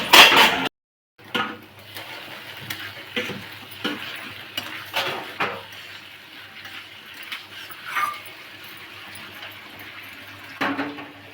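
Pasta cooking in a pan on a home stove at night, stirred with repeated scraping knocks and soft sizzling, irregular and close, with a brief silent gap near the start.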